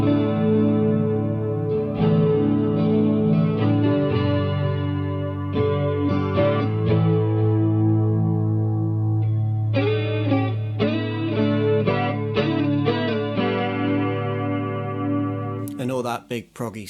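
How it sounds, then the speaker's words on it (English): A clean electric guitar amp with tape delay rings out big, floaty chords, each strum trailing into repeating echoes, with short breaks between phrases and a bright final strum at the end. "as soon as you put a tape delay on a clean amp"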